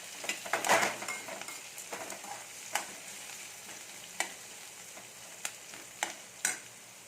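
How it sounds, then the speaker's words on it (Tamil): Ginger, onion, tomato and green chilli sautéing in a pan with a steady, close sizzle, broken by a handful of sharp spatula taps and stirs, and no voices. "இது நல்லா வதங்கட்டும் இப்போ இந்த வெங்காயம் தக்காளி பச்சை மிளகா இதெல்லாம் நல்லா வதங்கிடுச்சு"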